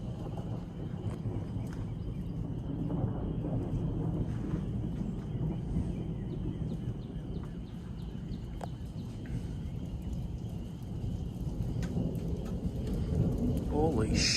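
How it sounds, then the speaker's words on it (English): Rain pours steadily during a severe thunderstorm in Edwardsville, Illinois, with deep thunder rumbling beneath a constant loud wash of falling water. "Starting to rain."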